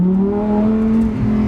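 2023 Lamborghini Huracan STO with its naturally aspirated V10, a brief loud close rev with a strong rising engine note.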